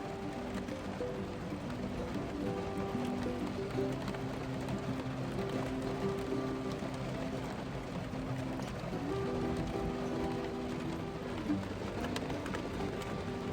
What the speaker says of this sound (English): If that rain would just pick up a little bit harder and faster, it would be just perfect.